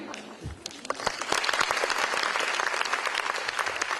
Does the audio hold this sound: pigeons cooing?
no